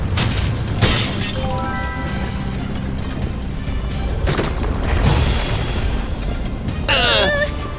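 Window glass shattering in a sudden crash, followed by scattered tinkling debris and further bursts of breaking over several seconds, with loud impacts near the start and middle.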